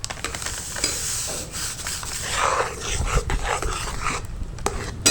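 Semolina is stirred into hot water as it thickens into dough, producing continuous close scraping and rubbing of the spoon against the pot, fairly loud, with no talk.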